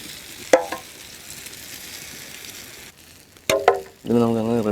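Ostrich egg omelette batter fries in a pan at an outdoor village cooking spot, giving a low, steady sizzle with a couple of sharp clatters and a voice near the end.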